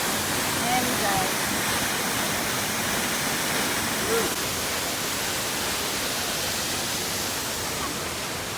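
Quimixto waterfall in Puerto Vallarta, Mexico, roars steadily, a dense broadband wash of rushing water that stays loud and constant throughout, with faint voices briefly audible beneath it.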